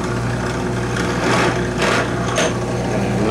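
A rotary tool chucked with a burr bit lightly grinds a burr off a metal fork, giving a steady high motor whine with brief brighter bursts as the bit touches the workpiece.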